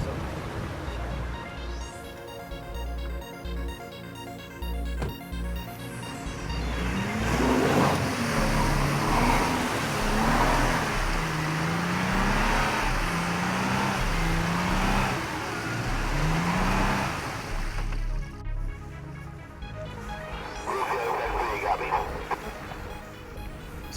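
A truck pushes through deep swamp on an overland expedition, its engine revving and surging steadily while a dog barks and whimpers close by.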